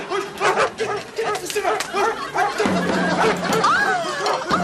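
A dog barks repeatedly in short sharp bursts, close by, while people shout and laugh over it.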